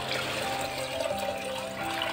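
Water pours steadily into a pressure cooker holding rice and spices for pulao, a continuous close splashing and gurgling stream with no talk over it.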